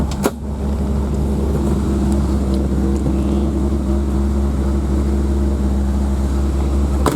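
A 1980 Chevy Corvette engine idles steadily after a brief start-up burst, a loud, even low rumble with a constant hum that stays close and unbroken throughout.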